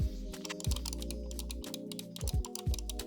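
Rapid plastic clicking of trackball mouse buttons, a steady run of small button presses close by, quiet but crisp with slight irregular timing.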